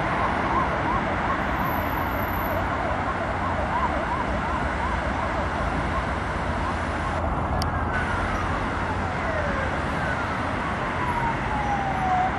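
Ambulance and fire engine sirens wail over constant roadway noise during a fire at Taksim First Aid Hospital in Istanbul, with a wavering siren tone that slides downward later on.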